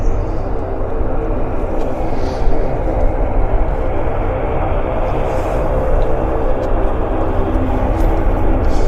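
An airliner's jet engines roaring in a steady, broad rush as it accelerates down the runway, heard from a distance at an airport, with a voice occasionally over it.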